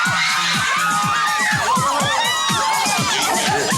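A crowd of young fans outside cheers and shouts for Janet Jackson, a dense, continuous wash of excited children's voices with high whoops and squeals rising over one another throughout.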